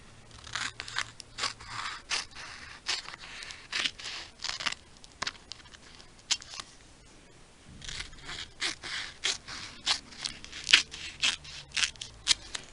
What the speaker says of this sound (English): I can just cut it.